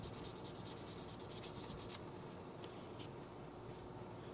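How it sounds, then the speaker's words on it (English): A milling machine cuts holes into a leather stamp tool, giving a steady, continuous grinding and rubbing noise with a constant hum throughout and a few brighter scraping bursts near the start. "Milling out these holes."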